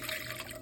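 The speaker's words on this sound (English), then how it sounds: "Add in some vinegar." Vinegar pours into a blender of cayenne pepper pulp for homemade hot sauce, a brief soft splashing trickle heard quietly on its own.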